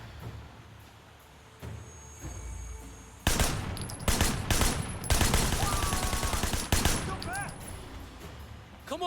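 Gunfire from the video game Sleeping Dogs breaks out after a quiet start, rapid bursts of automatic shots and loud cracks crowding together, with shouting voices mixed in.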